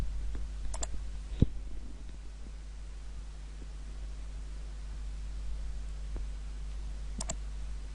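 Mouse clicks on an update button while building a WordPress website, a couple of faint, sharp clicks against a quiet hiss, one early and one near the end.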